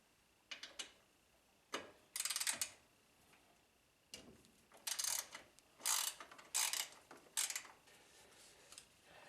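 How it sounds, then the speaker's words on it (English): A hand ratchet clicks in quick bursts while loosening 10mm factory bolts on a 2023 CFMoto ZForce 950 HO EX UTV, close and crisp, with short pauses between sets of turns and no talking. "it's actually 10mm to get the factory bolts out"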